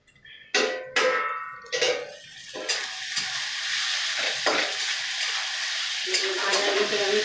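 Flattened rice (chira) fries in a pan with peanuts: a few sharp clanks of a spatula against the pan, then a steady, close sizzle.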